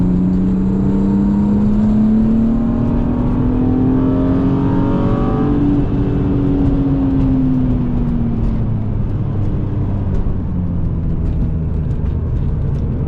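A 260,000-mile BMW E36 M3 on a wet race track, engine droning loud from inside the car as it climbs through revs and then eases off, with steady road and tire noise underneath.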